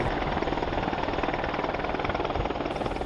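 An AH-64 Apache helicopter heard from inside or close by, a loud, continuous rotor and turbine roar with a rapid, even blade thump throughout.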